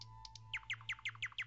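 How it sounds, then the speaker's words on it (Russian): A small bird, a swallow with a white belly and forked tail, gives a quick series of sharp, rising chirps, about ten in a row, close and clear over a low steady hum. "Ласточка. Ласточка."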